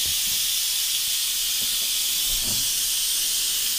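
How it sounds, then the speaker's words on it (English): Steam blasts out in a steady, loud, unbroken hiss while beef stew cooks, with faint low knocks and thumps underneath. "oh, it's blowing steam, but feel it. Feel it, deflating."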